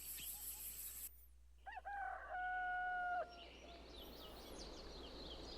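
A rooster crows in the video game Gobliins 2, a clear, loud cock-a-doodle-doo with a sustained held note, preceded by bright game tones and followed by faint bird chirps over a low background hum.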